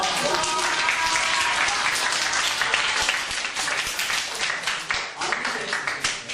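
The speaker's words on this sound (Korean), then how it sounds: "박수 주세요" Audience applause at a youth history lecture at an international school in Hong Kong, a dense burst of clapping that is loud and steady at first, then thins and fades toward the end, with some voices underneath.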